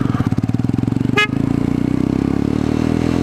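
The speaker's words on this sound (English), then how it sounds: "that's not the stock horn that you guys are hearing" An aftermarket horn on a Venom X22 motorcycle gives one short, loud, bright blast, close by, over the steady rumble of the idling engine, which keeps running before and after.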